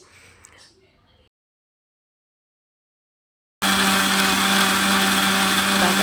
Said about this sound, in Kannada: ಇದನ್ನೆಲ್ಲ ಸೇರಿ ನಾವು ಈಗ ಮಿಕ್ಸಿನ ಮಾಡ್ಕೊಬೇಕಾಗತ್ತೆ ಚೆನ್ನಾಗಿ ನುಣ್ಣಗೆ ಗ್ರೈಂಡ್ ಮಾಡಿಕೊಂಡು